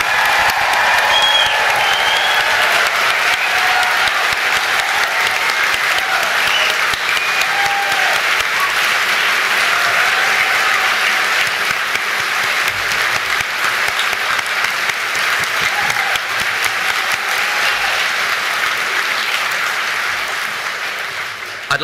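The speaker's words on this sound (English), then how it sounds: "Let's give the loudest cheer for the class of" Graduation audience applauding and cheering for the class of 2023 at a ceremony, a loud, dense, sustained wash of clapping with some whoops, steady throughout and tapering slightly at the end.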